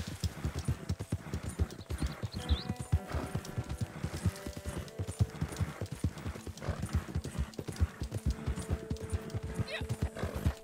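Horse hooves clip-clopping in a steady trotting rhythm in the video game Red Dead Online, with occasional neighs and whinnies over the continuous footfalls.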